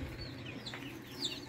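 Young chickens in a brooding box cluck and cheep softly, a few short high calls over a quiet background.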